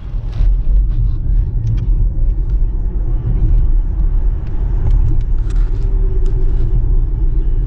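An Audi e-tron 50 electric car (313 hp) accelerates hard with a deep, steady rumble of road and motor noise, loud and close, with faint knocks on top.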